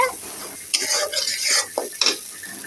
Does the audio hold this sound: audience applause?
no